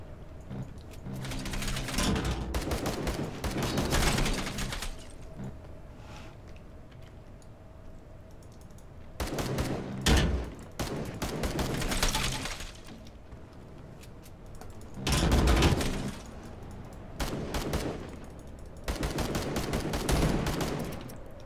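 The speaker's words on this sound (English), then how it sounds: "Who's shooting at me?" Gunfire in the game Pantropy, several long bursts of rapid automatic shots separated by quieter pauses, loud and close.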